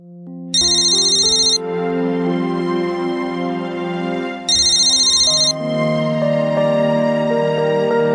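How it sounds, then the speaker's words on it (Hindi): A phone's melodic ringtone plays loudly and clearly in two repeating cycles, with a bright, high-pitched tone over a sustained musical backing and no talk. "देख, तृष्णा का ही फोन होगा।"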